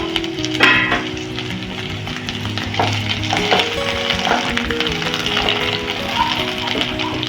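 Vegetables for a Bengali curry fry steadily in a pan, including tender drumstick stalks, with continuous loud sizzling and stirring scrapes throughout.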